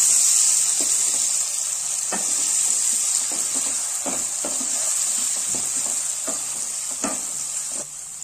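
Capsicum frying in a pan, a steady bright sizzle throughout with a series of sharp stirring scrapes and clicks at irregular intervals, close and fairly loud, no voices.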